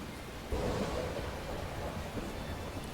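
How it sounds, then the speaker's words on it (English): Rolling thunder in the Tales of Berseria video game, a steady, moderately loud rumble with a rain-like wash that swells slightly after the first half-second and holds for about three seconds. "Thunder effect is really ominous"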